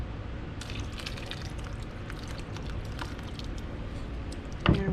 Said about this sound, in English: pour some cold water over the top of this